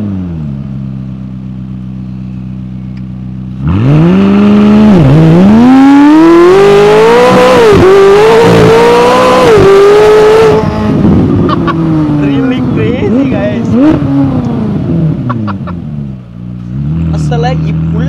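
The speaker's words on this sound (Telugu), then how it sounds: "ఇది V8 ఇంజిన్ ట్విన్ టర్బో." A McLaren 600LT Spider's twin-turbo V8 idles, then erupts into a loud, rising high-rev pull lasting several seconds, climbing through gears before easing back to a lower burble.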